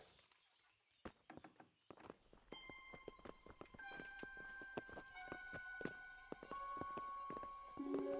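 Horses' hooves clip-clop in a steady walking rhythm in the medieval video game Kingdom Come: Deliverance, with sustained musical tones and a faint bird rising over the hoofbeats.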